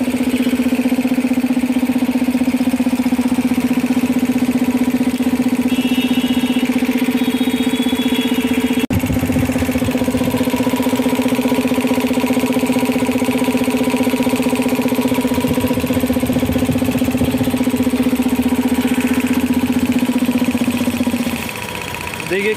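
A restored Elgi 3hp air compressor runs steadily under test, giving a loud continuous mechanical hum with an even drone throughout, close to the listener, and cutting out near the end.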